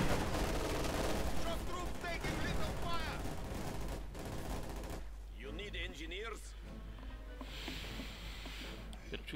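Gunfire from the Company of Heroes 2 battle game, including machine-gun bursts and shots. The firing is dense and loud at first, then thins out to scattered quieter shots, and a commentator talks over it.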